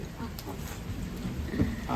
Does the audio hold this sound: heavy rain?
yes